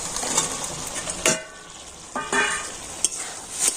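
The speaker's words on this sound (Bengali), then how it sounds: "সয়াবিনটা দিয়ে সমস্ত মশলার সাথে খুব ভালো করে কষিয়ে নিয়েছি" Fried soybean chunks sizzle in masala as they are stirred in a pan, with short bursts of frying and scraping strokes over a steady background hiss; no talking.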